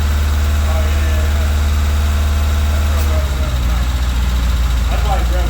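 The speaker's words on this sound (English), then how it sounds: "we got a vacuum leak right here that's real bad too" A Toyota Tercel wagon's swapped 1.6-litre 4A engine idles high and steady from a bad vacuum leak, a loud close rumble that dips slightly toward the end.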